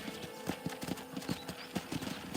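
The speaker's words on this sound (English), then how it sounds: "let's see if you can still ride a horse" A horse in the Red Dead Redemption video game clip-clops along at a steady trotting rhythm, its hoofbeats clear and close, with a brief whinny mixed in.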